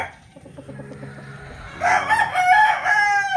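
A rooster from a breeding trio crows loudly and close, a strong cock-a-doodle-doo that swells in the second half after a short stretch of softer clucking and low background noise.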